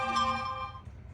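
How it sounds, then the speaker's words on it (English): A mobile phone rings in one short bright electronic chime that fades quickly over a low background hum. "phone's going nuts. Probably should have put it on airplane mode"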